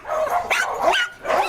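A Boston pug gives several quick, close yips and barks in a rhythmic run, with whiny high-pitched edges on each bark.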